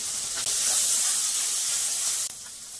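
Water hits a hot pan holding ground cumin, coriander, turmeric and chili powder for a river crab curry, bursting into a loud, close, steady sizzling hiss that holds for about two seconds and then drops.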